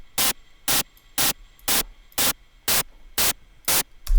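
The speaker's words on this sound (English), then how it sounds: "we get different types of, different flavors of noise." Synthesizer oscillators produce bursts of hissing noise for hi-hats, played as nine evenly spaced short blasts over a faint background hiss, close and fairly loud.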